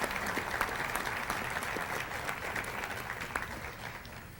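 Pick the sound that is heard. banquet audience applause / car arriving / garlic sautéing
banquet audience applause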